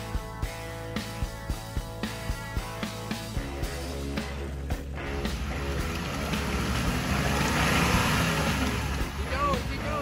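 An off-road vehicle on a trail in Vinton County, Ohio, its engine revving hard as the wheels spin, building to a loud sustained whine, with a rhythmic ticking early on and voices nearby.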